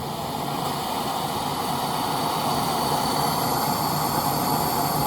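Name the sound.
Soto Amicus gas camping stove burner roaring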